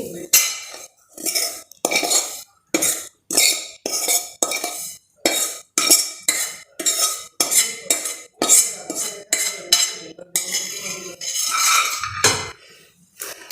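Spice masala being mixed into a gooseberry and green chilli pickle in a metal bowl, a spoon scraping and clinking rhythmically against the vessel in quick repeated strokes, close and fairly loud, with no talking.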